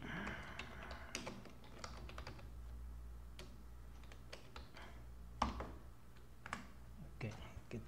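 Typing C++ code on a computer keyboard, irregular clusters of crisp key clicks and taps close by, with quiet speech around them.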